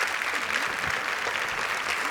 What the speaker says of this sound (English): Yes, applaud, applaud